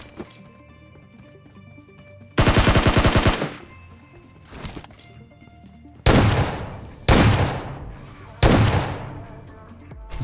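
A Scar-L assault rifle fires in PUBG Mobile: loud, close bursts of rapid automatic fire, one long burst followed by several shorter ones, with quieter game ambience in between.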